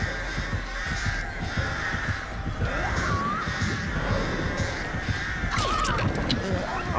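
Crows caw repeatedly in Dead by Daylight, loud and close over busy game noise and footsteps, with a few rising calls near the end.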